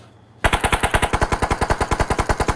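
Rapid automatic gunfire in the mobile shooter PUBG Mobile rattles out in one sustained, evenly spaced burst of about twenty loud, sharp shots, starting abruptly after a brief quiet moment.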